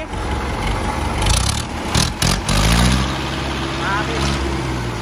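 An Iseki 7010 tractor engine rumbles loudly and then is switched off, its low drone winding down to a quieter idle-like hum. People talk over the engine.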